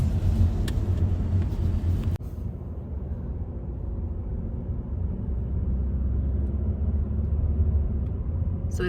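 Steady interior rumble of a car cruising along a road on the Biltmore Estate grounds, a continuous close drone with one brief bump and no talking.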